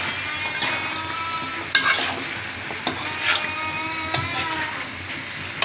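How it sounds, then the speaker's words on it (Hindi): Spices are mixed into mutton curry in a pan, with a soft low sizzle under repeated spoon scrapes and a few sharp clinks against the pan's side. "अब हम इन सब मसालों को अच्छी तरह से मिक्स कर लेंगे।"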